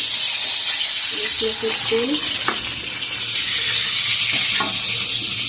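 Hot oil sizzling and frying in a pan while mustard hilsa is cooked with coconut milk, a loud continuous hiss close up with brief stirring clinks and soft talk underneath.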